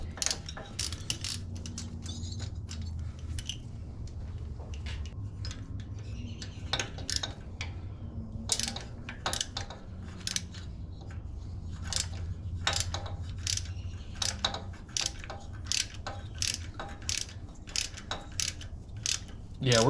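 A ratchet wrench works a bolt on a Harley-Davidson 103 engine during a cam swap, producing quick runs of close, sharp metallic clicks in uneven bursts with short pauses and light clinks of tools.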